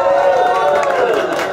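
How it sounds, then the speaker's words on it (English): A loud crowd-cheering sound effect plays in a radio studio during a live session with a band, a dense roar of yelling voices that stays near and constant throughout. "Crowd goes crazy."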